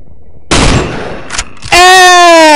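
Gunfire in the horror game Cry of Fear: a loud burst of shots with a short follow-up crack, then a sustained, piercing tonal sound rings out to the end.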